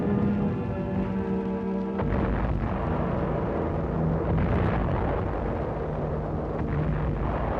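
Ammo dump in the Battlefield WWII game erupting under mortar fire, a sustained loud roar of explosions with repeated heavy bursts rumbling on for several seconds.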